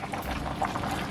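Seasoned shrimp for a seafood medley go back into a smoke pot with a steady bubbling, liquid churn. The sound is close and continuous for a brief moment, with no talking.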